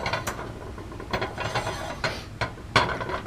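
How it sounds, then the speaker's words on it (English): A metal lab clamp ratchets and clicks as it is tightened around the neck of a round bottom flask in a chemistry setup for a Grignard reaction, giving a string of short, close mechanical clicks and scrapes. "we're going to want to clamp both the round bottom flask and the Claisen adapter"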